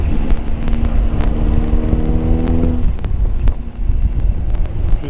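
A 1933 MG J2 engine rises in a short rev-matching blip during a downshift, a close mechanical whir that climbs and then settles, with wind noise and road rumble around it.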